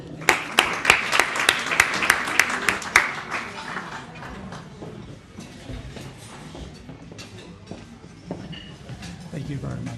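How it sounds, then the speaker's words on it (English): Applause from guests at an appreciation dinner gala, a short run of sharp claps at the start that quickly dies away into low room noise and murmuring. "Can we now give a round of applause for Mr. David Amadine?"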